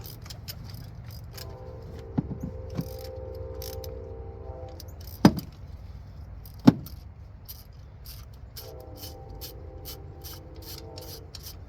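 A ratchet with a 14 mm socket on a 12-inch extension working spark plugs loose on a 2018 Nissan Kicks, with rapid clicking ratchet runs, a few sharp metallic knocks and clinks of the tool, close and alone.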